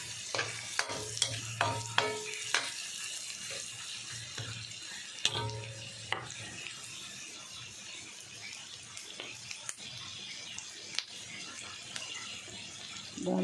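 Garlic and onion sauté in a pan for a simple home-cooked dish, with a quiet background sizzle broken by sharp spatula scrapes and clatters, mostly bunched early, plus faint running-water sounds.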